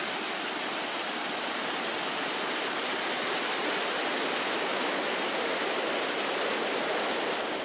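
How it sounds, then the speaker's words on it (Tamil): Flooded river at the foot of the Ayyanar temple rushing after heavy rain, a loud, steady, broadband roar of turbulent water close by, with no voices. "அடிவாரத்தில் உள்ள ஐயனார் கோவில் ஆற்றில் வெள்ளப்பெருக்கு ஏற்பட்டுள்ளது."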